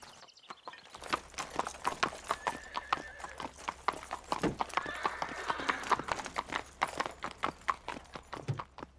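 Cartoon horse trotting with steady, crisp clip-clop hoofbeats throughout, a whinny rising in the middle, the hooves loud and close.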